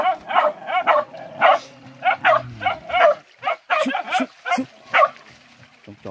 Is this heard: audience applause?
no